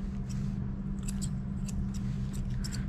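Scissors snipping around the ears of a severely matted schnauzer, a quick series of small crisp metallic cuts in short bursts over a steady low hum.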